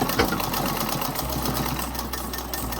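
A sewing machine runs steadily while stitching a coat suit, its fast rhythmic needle chatter continuous and close, with a brief change in speed partway.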